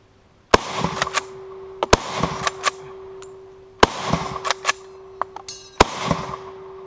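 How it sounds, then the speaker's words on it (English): Austrian Steyr M95 infantry long rifle firing a clip of rounds, with four sharp, loud shots spaced a second or two apart and metallic bolt clatter between them, no speech. "I'm going to do one more clip just because of those duds."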